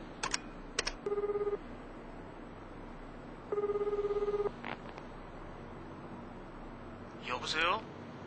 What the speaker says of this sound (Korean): 부두에 도착하자마자 나는 범우에게 전화를 걸었다.